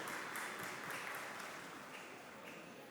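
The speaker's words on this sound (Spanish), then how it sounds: "fuerte el aplauso a los 10 años de Conexión Abierta" Applause at a journalism week event at UAI marking ten years of the Conexión Abierta project: a steady, fairly faint wash of many hands clapping that runs the full length and eases slightly toward the end.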